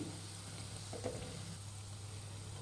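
Gulab jamun frying on a low flame produce a faint, even bubbling hiss that stays steady throughout, with no talk.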